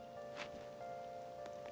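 Steady rain falls in the video game Persona 5 Royal, a constant soft hiss with a few brighter splashy bursts, layered with sustained tonal background music.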